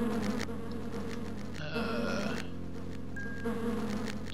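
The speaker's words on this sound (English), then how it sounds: "we were running through the Droke's Cavern and are surrounded by bugs, it sounds like" Dense, steady buzzing of a swarm of bugs inside the Droke's Cavern in the fantasy role-playing game Lands of Lore: Throne of Chaos, a continuous drone of insect wings with soft game ambience underneath.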